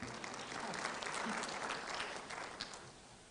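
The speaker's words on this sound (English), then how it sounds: "That's where you clap." Faint, distant applause from a crowd at a Pan-African youth convention, a steady wash of clapping heard far off throughout.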